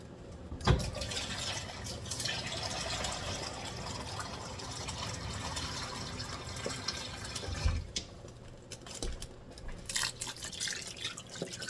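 Water pours steadily into a pot of dye on a stove, a soft continuous splashing fill with a couple of small knocks, heard fairly quietly with no talking.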